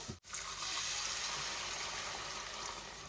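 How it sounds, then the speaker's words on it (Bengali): Water pours steadily into a pan of fish curry masala, a continuous splashing rush that starts abruptly after a brief knock and carries on alone, close and fairly quiet. "এবার আমি এর মধ্যে একটু জল দিয়ে দেবো"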